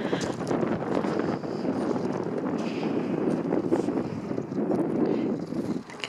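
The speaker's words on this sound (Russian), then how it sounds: "ну ветрище сегодня просто вообще невыносимый" Strong, gusty wind buffets a microphone outdoors at an aircraft museum, a loud continuous low rumble with surging gusts and no speech.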